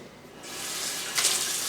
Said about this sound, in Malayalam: എന്നിട്ട് ഇതിലേക്ക് ആവശ്യത്തിന് വെള്ളം ഒഴിച്ചിട്ട് ജസ്റ്റ് ഒന്ന് മിക്സ് ചെയ്തെടുക്കുക